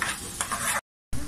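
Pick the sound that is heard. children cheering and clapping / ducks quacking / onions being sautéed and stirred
onions being sautéed and stirred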